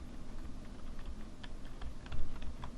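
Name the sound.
typing a password on a computer keyboard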